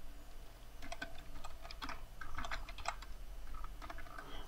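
Someone types on a computer keyboard in irregular bursts of close, quiet key clicks, with short pauses between runs of keystrokes and no talking.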